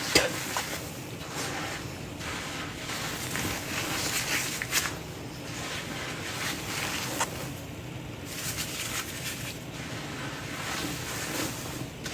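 Hands churning through a heavy load of laundry suds in water, a wet, frothy swishing and bubbling that rises and falls in slow repeated strokes, close and continuous.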